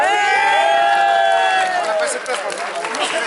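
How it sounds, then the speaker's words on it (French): An audience at the Polna exhibition applauds and cheers, a broad wash of clapping under a voice on a PA; the talk fades as the clapping swells and carries on. "vous pouvez applaudir"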